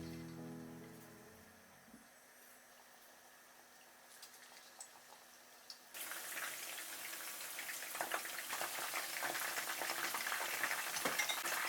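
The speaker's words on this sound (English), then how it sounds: "Put the fish piece by piece into the oil" Fish pieces coated in cornstarch dropped into hot oil, a quiet lull giving way to a sudden, loud, dense crackling sizzle that keeps building and spitting steadily close by.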